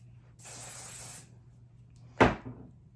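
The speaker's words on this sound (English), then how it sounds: "I'm going to take my light hold hairspray" A light-hold Redken Fashion Work 12 hairspray gives one short, hissing burst onto hair, followed by a quiet pause and a dull knock as the can is set down.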